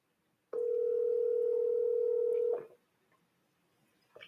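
A steady telephone tone sounds for about two seconds during an outgoing call, then cuts off into near silence before a faint click near the end.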